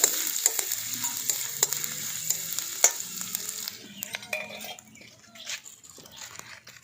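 Grated ginger fries in a pan for a mung dal kachori filling, a close, crackling sizzle with stirring scrapes that quietens partway through.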